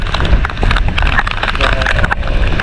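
Heavy rain pours during a typhoon storm in Bicol, a loud broadband hiss and patter with gusty low rumble, heard close from a rider on a motorbike; a voice speaks briefly over it.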